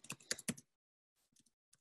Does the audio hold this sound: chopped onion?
no